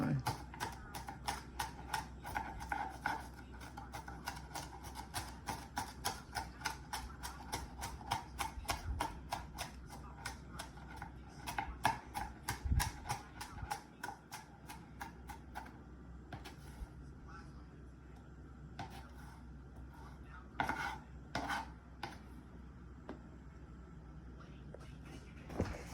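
A knife chops rapidly and rhythmically on a cutting board, making a long run of sharp, evenly spaced taps that later slow to scattered knocks, while people talk nearby.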